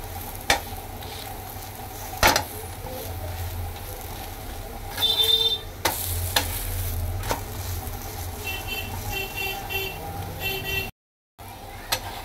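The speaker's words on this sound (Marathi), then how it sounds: "आपण जशी चपाती भाजतो तशी ही बेसनची पोळी व्यवस्थित आलटी पलटी करून आपण" Besan flatbread cooking on a pan like a chapati and being turned over, with a continuous low sizzle, a few sharp clacks and scrapes of handling, and faint background noise.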